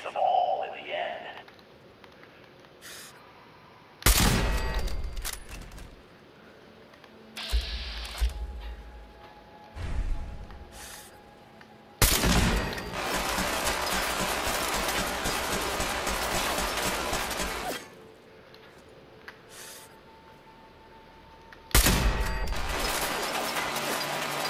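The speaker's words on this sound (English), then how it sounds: "So there's a machine gun turret up there somewhere." Bursts of rapid machine-gun fire from a turret in the video game Fallout 4 arrive in several separate volleys, one long sustained stretch among them, while a voice talks over the gameplay between shots.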